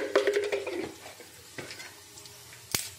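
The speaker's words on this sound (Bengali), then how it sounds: "জিরে ফোড়ন দিলাম," Cumin seeds hit hot oil in a wok with a sharp sizzle that fades to a soft crackle. A couple of brief clinks and a stir follow, with no talking.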